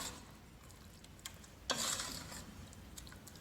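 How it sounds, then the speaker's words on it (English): Tomato sauce with vegetable stock is stirred in a pan over moderate heat, a faint bubbling hiss with one brief louder scrape and soft scattered ticks. "Let's stir it nicely first."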